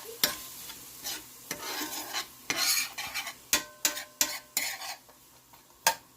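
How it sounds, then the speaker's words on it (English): An onion and pepper blend sautés in a pan, with a continuous close sizzle and repeated sharp scrapes and clinks as a utensil stirs against the metal pan, no talking. "We're going to let this saute down"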